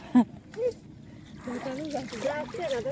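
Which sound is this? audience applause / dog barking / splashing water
splashing water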